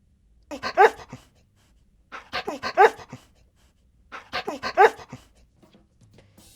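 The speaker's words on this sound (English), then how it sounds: "dog," A dog makes three short bursts of yapping sounds at regular intervals, close by, with quiet gaps between.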